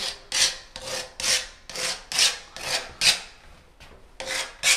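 A screwdriver scraped back and forth across a dry liquid screed floor, giving about ten rhythmic raspy strokes, close and fairly loud with brief pauses between them.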